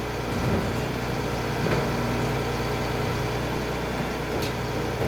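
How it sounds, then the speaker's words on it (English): A garbage truck's engine idles steadily with a low, continuous rumble, close and constant throughout with no voices. "Garbage truck, a truck that collects trash from the streets."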